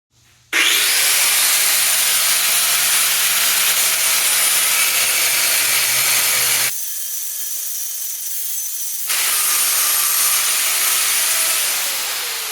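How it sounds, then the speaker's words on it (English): A loud power grinder screeches against metal in a harsh continuous hiss, grinding off a small reinforcement tab, pauses briefly with a lower whir, then bites in again and trails off. "grind this little reinforcement tab off so that thing can sit flush"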